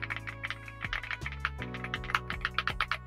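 Typing on a Yunzii B75 compact 75% mechanical keyboard produces a close, steady patter of deep, thocky keystrokes with a bassy tone, with soft music playing underneath.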